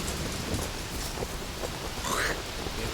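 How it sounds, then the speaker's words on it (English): Heavy rain in The Witcher 3 video game, a dense continuous hiss of downpour at steady volume, with a faint low rumble and a brief murmur of voice in the background. "Raining fucking buckets"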